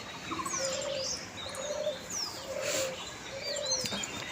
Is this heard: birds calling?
yes